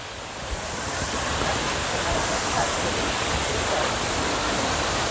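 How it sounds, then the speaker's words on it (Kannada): Abbi Gundi waterfall at Sakleshpur, falling in two or three tiers, a steady broadband rushing roar that rises slightly after the first half second, then holds evenly and fairly loud throughout. "ಈಗಲೇ ಫಾಲ್ಸ್ನ ಒಂದು ಸೌಂಡ್ ಕೇಳಿಸ್ತಾ ಇದೆ ನಿಮಗೆ"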